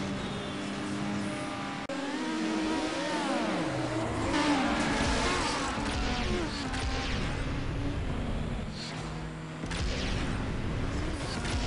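A Dodge Neon races in Need for Speed, its engine note rising and falling through revving gear changes under a continuous loud drone, with tire and wind noise layered over the game soundtrack.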